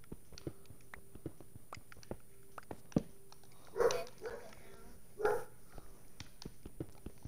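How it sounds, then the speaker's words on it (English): A real dog, apparently barking at a passing train, gives two faint, distant barks about a second and a half apart, heard under steady clicking and quiet background noise while someone plays Minecraft. "IRL dog is barking."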